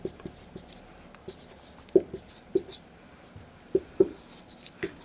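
Pen or marker writing out a physics formula for direction, tan beta, during a relative acceleration lesson: scattered soft scratching strokes with a few sharper taps, close and quiet, with faint whispery background.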